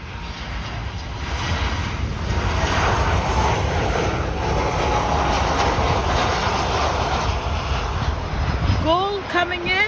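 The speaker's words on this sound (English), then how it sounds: "GOL coming in to land." A GOL airliner comes in to land on runway 9 at Miami, its jet engines giving a sustained loud roar that holds steady throughout before easing off at the very end.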